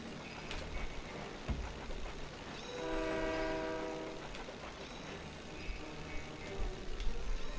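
Train in the Disney Planes video game, a rail horn sounding a sustained chord for about a second and a half amid steady engine and wind rumble, with no talking.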